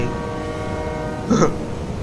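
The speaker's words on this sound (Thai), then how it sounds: "รถไฟใต้ดิน" A subway train passes in the Dead or Alive 5 Last Round fighting game, a steady mechanical hum with sustained tonal lines and a brief louder horn-like burst partway through.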